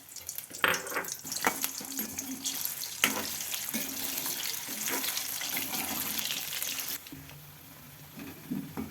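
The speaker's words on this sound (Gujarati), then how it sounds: "આ રીતે બટેટા સેજ કચકચરા તેલમાં તળી લેવાના." Potatoes frying in hot oil over a low gas flame for Kathiyawadi-style undhiyu, a steady broadband crackle and hiss that stays loud and continuous, easing slightly near the end, with no talking.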